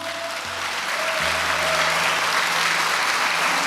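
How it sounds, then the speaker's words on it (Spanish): A church congregation applauding during a Sunday service, a broad continuous wash of clapping that swells slightly and holds steady, with low hum beneath. "¿Quiere darle un aplauso al Señor?"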